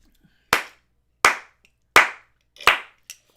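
Four loud, sharp hand claps ring out at a steady, unhurried rhythm, close and crisp, followed by a smaller fifth clap, with quiet between them.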